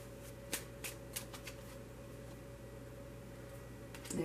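A few soft riffles of tarot cards being shuffled, grouped near the start, followed by a quiet pause and another brief shuffle at the end.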